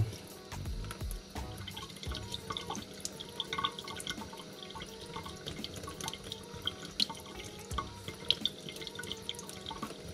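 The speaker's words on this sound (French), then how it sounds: "Donc là on mouille bien la tresse." Braided fishing line is soaked in water before spooling onto a reel, giving soft splashing, dripping and trickling sounds close by, irregular and fairly quiet, with no talk.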